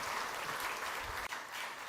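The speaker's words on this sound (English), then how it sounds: "I think we should give a huge round of applause for Madam there." Audience applause in a semiconductor conference hall, a close, even wash of many hands clapping for about two seconds with a small dip in the middle.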